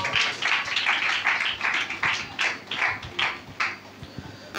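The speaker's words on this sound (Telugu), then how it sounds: "చప్పట్లు కొట్టి తన దాసులు మనము ప్రేమతో ఆహ్వానిద్దాం" A church congregation at a fasting revival prayer meeting claps to welcome the pastor, a run of about a dozen fairly evenly spaced claps and short bursts, moderately loud and close, with no talk over it.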